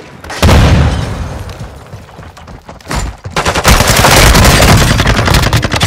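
Loud gunfire in Call of Duty: Modern Warfare II Warzone 2.0, rapid bursts of shots and booms in two clusters separated by a brief lull, close and dominant.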